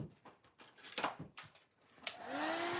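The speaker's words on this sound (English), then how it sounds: "you can also dry it with the heat gun" A heat gun drying gel medium for mixed-media art starts up after some handling noises and then blows with a steady, loud whooshing hum.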